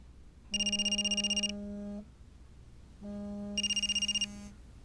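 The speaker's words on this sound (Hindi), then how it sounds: "तुम्हारे घर से फोन आ रहा है?" Telephone ringing in a home in a Turkish drama, two electronic ring bursts with a steady low tone under a fast warbling trill, separated by a short pause, clear and close with no talk.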